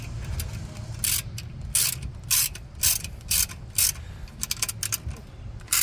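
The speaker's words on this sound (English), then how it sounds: "ratchet." A 3/8-inch ratchet tightens a caliper cover bolt on a Toyota 4Runner, giving a series of sharp, close pawl clicks in short bursts with brief pauses between strokes.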